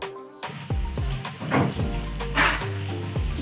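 Onions frying in hot oil in a pan after chillies went in, a loud, close, continuous sizzle that swells in bursts as they are moved and stirred.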